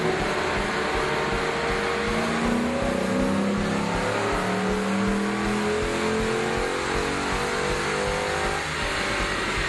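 A 2006 Ford Mustang GT with the 4.6 liter 3-valve modular V8 revving on a chassis dyno, a loud continuous engine roar with rising and falling tones as it climbs through the revs, steady throughout with no talk.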